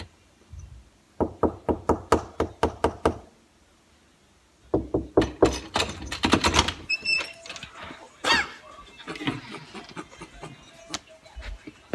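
Knocking on a locked door: a burst of about eight sharp, even raps, a pause, then a second faster flurry of heavy pounding, loud and close, followed by rattling handling noises.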